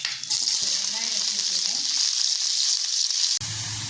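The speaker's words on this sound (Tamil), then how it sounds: "பட்டை ஒன்று, கிராம்பு ஒன்று போட்டு" A cinnamon stick and a clove fry in hot oil at the start of an egg gravy, making a loud, steady close-up sizzle that drops suddenly near the end before settling into a lower bubbling hum.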